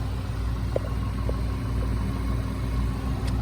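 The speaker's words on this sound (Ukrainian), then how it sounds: "Мотор працює просто часи." A Skoda Octavia A5 1.8 petrol engine idles steadily with a smooth low hum and even rumble, close up, with no speech.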